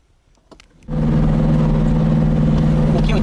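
A Puma GTE car on a test track: after a brief quiet moment, its engine comes in close and loud, then holds a steady, droning run to the end.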